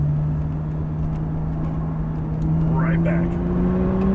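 A Porsche 911 Turbo on a race track, its engine drone steady and close from inside the car, with the pitch shifting as it brakes and changes gear, while a driver talks over it.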